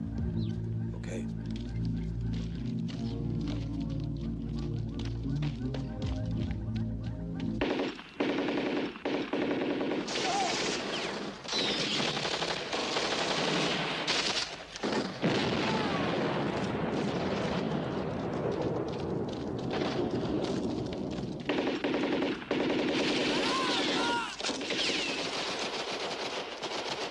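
Sustained machine gun fire from a war movie battle, dense rapid bursts roaring continuously with loud crackling volleys and rumbling blasts, voices shouting faintly underneath.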